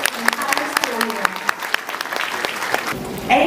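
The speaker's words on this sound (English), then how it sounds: "Let's give these students a big round of applause." An audience applauds students at an end-of-year third grade school event, a burst of scattered claps mixed with voices, with a louder wash of clapping rising right at the end.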